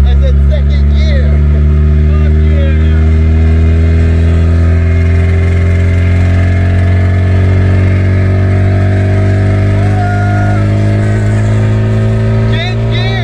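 A classic Toyota truck engine accelerating in second gear, a loud continuous droning rumble with rising pitch heard from inside the cab, while people talk over it.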